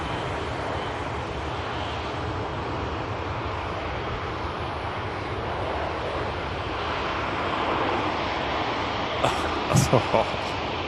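A Singapore Airlines Airbus A350 jet on the runway at Manchester Airport after landing, producing a steady, broad engine roar that holds evenly throughout, with a few brief clicks near the end.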